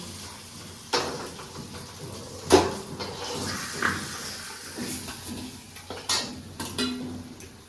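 Fried fish heads are lifted out of a pan in a home kitchen, with scattered metallic clinks and scrapes of a utensil against the pan over a faint background, no voices.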